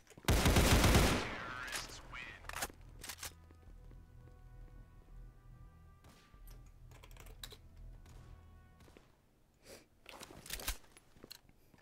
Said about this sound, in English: we're just gonna try this MG42 in this game